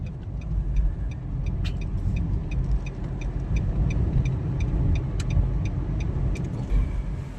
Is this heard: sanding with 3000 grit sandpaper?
no